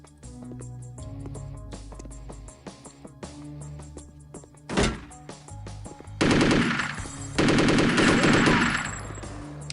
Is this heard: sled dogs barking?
no